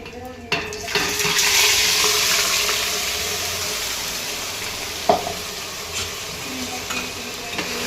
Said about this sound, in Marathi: आता ही पेस्ट अशी दाणेदार होईपर्यंत आपल्याला भाजायची आहे छान।